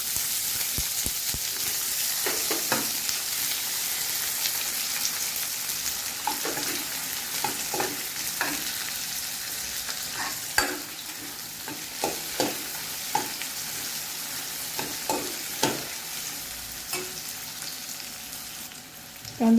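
Onion roasts in oil in a pan for an amti, a continuous close sizzle broken by regular scraping stirs with a spatula, no speech.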